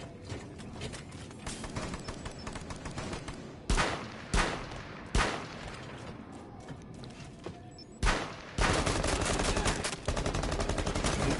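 Gunfire from the Thermite operator shooting from a roof during a competitive CFL video game match, heard as sustained automatic fire broken by several sharp, loud bursts, with a heavy barrage near the end.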